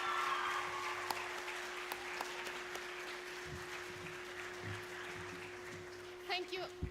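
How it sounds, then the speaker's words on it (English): Audience applause at a school event at The English School Fahaheel, a broad steady patter of clapping sustained throughout before thinning out at the end. "So please help me and give her a round of applause."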